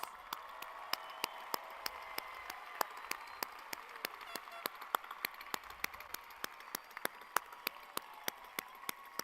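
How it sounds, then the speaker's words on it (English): A crowd at the Georgetown High School graduation in Georgetown, Texas, in 2023 applauds in a steady, even patter of many claps. The sound is fairly faint and distant, with no speech over it. "give us a round of applause"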